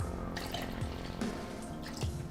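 Isopropyl alcohol pours into a plastic resin wash container with a steady trickling, gurgling flow and a few small drips and plops, close and moderately loud, without talking.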